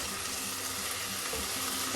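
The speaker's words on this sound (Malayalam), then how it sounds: "എല്ലാം കൂടെ ചേർത്തൊന്ന് എണ്ണയിലൊന്ന് മൂപ്പിക്കാം" Potato and coriander powder fry in hot oil, giving a steady, even sizzle that is close and continuous for the full two seconds, with no talking.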